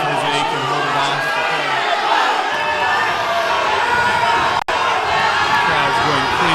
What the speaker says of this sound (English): Crowd's going crazy right now for their home